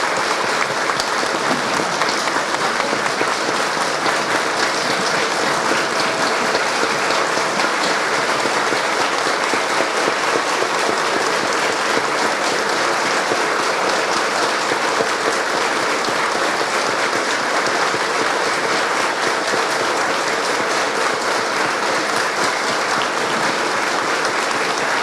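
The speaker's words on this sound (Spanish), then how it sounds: "Brindémosle ese minuto de aplauso" Sustained, dense applause from a large seminar audience in a minute of tribute, an unbroken, loud wash of clapping that holds at an even level throughout without audible speech.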